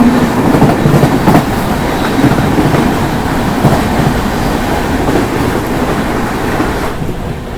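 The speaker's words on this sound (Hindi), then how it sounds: "तो देखो सामने से आई गई बस वंदे भारत एक्सप्रेस" The Vande Bharat Express from Anand Vihar to Ayodhya rushes past close by, a loud continuous roar of wheels and rail clatter with rhythmic clickety-clack that eases slightly at the end.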